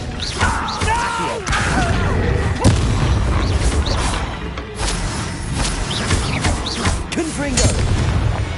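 Confringo fire spells burst in a Hogwarts Legacy battle, a run of loud booming blasts and impacts with crackling magic effects, layered under battle noise and spoken combat calls.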